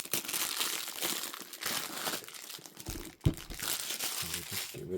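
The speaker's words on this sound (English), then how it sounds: "So we take off the cellophane" Cellophane wrapper peeled and crumpled off a collector's edition Blu-ray case, a close, continuous crinkling and crackling with one sharp crunch near the end, no voices.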